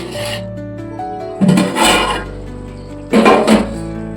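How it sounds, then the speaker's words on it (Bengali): Rice for egg pulao is stirred in a pot with a spatula in two loud, rough scraping bursts separated by quiet, over a faint steady hum. "চালটা একটু নেড়ে দিতে হবে"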